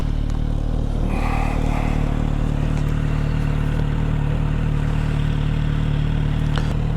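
A Kawasaki Z900RS motorcycle cruises along in sixth gear, its steady low engine drone and wind rush continuous throughout, with a brief clatter near the start.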